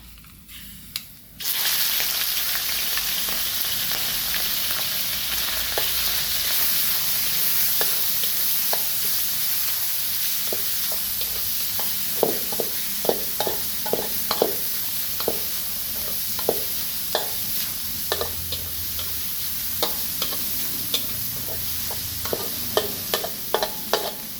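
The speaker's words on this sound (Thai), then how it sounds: "เราต้องผัดหมูให้สุกก่อนนะคะ" Minced pork for a spicy stir-fry with dried chillies sizzles steadily in a hot pan. A spatula scrapes and clacks at an irregular rhythm, growing more frequent toward the end.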